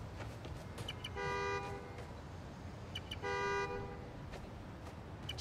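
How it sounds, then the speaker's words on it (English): Two sustained car horn honks in Marvel's Spider-Man: Miles Morales, each roughly half a second long and well spaced, sounding loud and close over a steady city street background. "Love a good horn."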